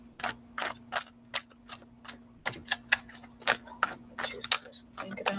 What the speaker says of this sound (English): let's keep shuffling and see if those cards pop back out again